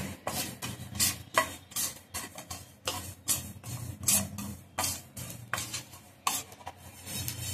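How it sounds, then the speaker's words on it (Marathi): Nigella seeds dry-roasting in a pan: a brisk rhythmic scraping and rattling as the seeds are stirred and tossed, close and fairly loud, with no talk. "हे कलंजी हे पण थोडं भाजून घेऊया."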